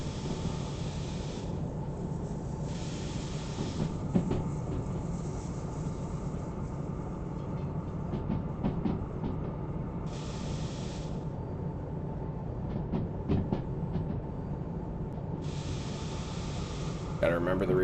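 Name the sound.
train rolling through a bend in Derail Valley video game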